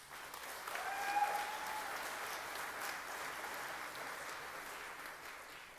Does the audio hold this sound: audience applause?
yes